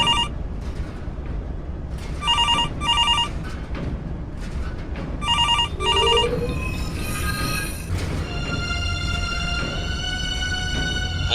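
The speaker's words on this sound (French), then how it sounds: "Il y a encore un coup de fil personnel." A telephone bell rings in short repeated bursts of two, clear and close, over background room noise, with a few sustained tones toward the end.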